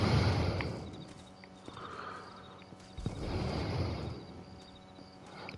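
Hooves clatter in a quick rhythm as horses run in the video game Red Dead Redemption, with a snort or whinny and a low rumble of movement throughout.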